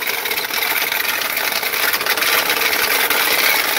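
Loud, harsh rasping whine from a failing alternator in a Chrysler 200 / Dodge Avenger, a steady grinding scrape with a high tonal squeal running continuously and close up.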